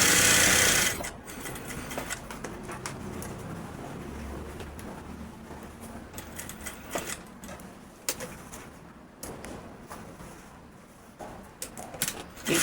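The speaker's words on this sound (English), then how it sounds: "I continue stitching to close up my pocket." A sewing machine stitches a welt pocket closed, whirring steadily at moderate volume with brief pauses, alone without talk, and faint bird cooing in the background.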